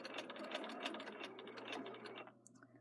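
A sewing machine stitches a narrow curved hem with a rapid, rattling mechanical run that stops short near the end, close and fairly quiet.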